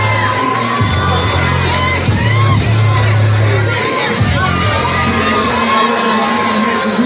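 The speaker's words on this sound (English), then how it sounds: "There's a nice crowd here for him tonight, cheering him on." A large crowd at a live professional boxing event in Fort Washington, Maryland cheers and shouts loudly and continuously, with whoops and yells rising over the dense babble.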